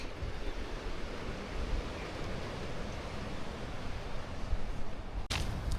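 Waves washing onto a Lake Superior beach make a continuous low rushing surf with some wind noise on the microphone, ending in a brief sharp crackle.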